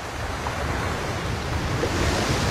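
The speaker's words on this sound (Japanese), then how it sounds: "これは沖縄の波の音。" Ocean waves wash onto the shore in Okinawa as a steady, broad roar of surf with wind, constant and fairly loud, with no voices.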